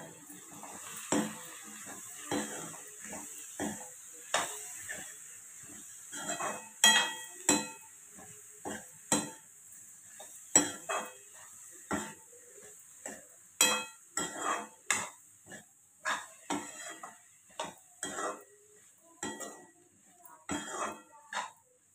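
Cooked meal maker (soy chunks) stirred and mixed in a pan with a spoon, giving a steady run of close, irregular scraping and clinking strokes against the metal, with a faint sizzle beneath and no talking.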